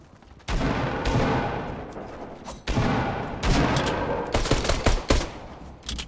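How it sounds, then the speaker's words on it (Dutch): Dense bursts of automatic gunfire in a Fortnite match, several loud sustained volleys with brief gaps and rapid crackling shots toward the end, no talking. "Achter ons ook schoten."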